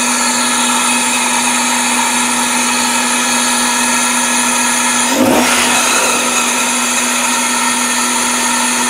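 Running engine of a 1997 Toyota Camry with a mystery noise, likely a vacuum leak, idle or throttle body fault: a steady whining hum with constant tonal drone, swelling briefly midway in a short rising rev before settling back, no talk.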